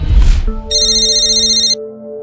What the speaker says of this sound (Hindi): आपका फ़ोन हमेशा गलत वक्त पे क्यों बजता है?